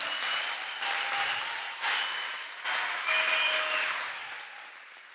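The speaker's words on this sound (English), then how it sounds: "So please give yourselves a round of applause." An audience at a school educators' ceremony bursts into sustained applause. Dense clapping fills the room for about five seconds, swelling in waves and never letting up.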